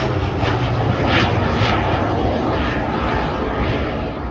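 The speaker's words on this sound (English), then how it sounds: "that's the sound of the propeller, going slightly supersonic" A loud propeller aircraft roars past close by at an air show, a buzzing, rasping engine drone as the propeller tips go slightly supersonic, swelling and holding steady.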